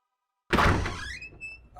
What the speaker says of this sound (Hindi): शंभू जी, जा दरवाजा खोल।